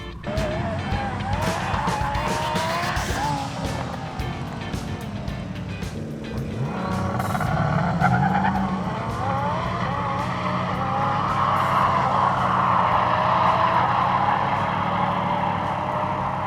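Race cars at Cootamundra accelerate hard and back off, with loud engine roar, rising and falling revs and some tyre noise. Voices are faint underneath.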